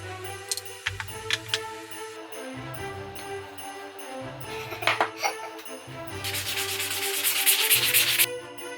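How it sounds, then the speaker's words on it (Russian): Sanding along the edges of 16 mm plywood mitten cutouts, a steady close rasping that swells louder and brighter toward the end, with scattered light ticks and clicks. "Далее я решила подточить края, сделав такие креативные углубления."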